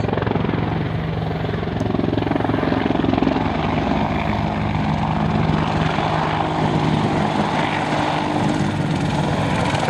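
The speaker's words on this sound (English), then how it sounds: "please put your hands together for the 2012 Attack Helicopter Display Team" An attack helicopter flying at an air display produces a continuous loud rotor and engine roar with steady throbbing, holding strong and close throughout with no voices.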